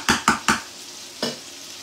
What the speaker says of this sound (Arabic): شوفوا يا الحباب، راني نقلي البصل نتاعي